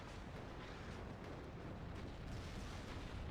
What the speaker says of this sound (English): Big rocket strike here into the north.